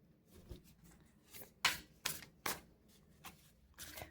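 Tarot cards being shuffled and pulled from the deck, a quiet close series of soft riffling swishes and slaps in irregular bursts with no talking.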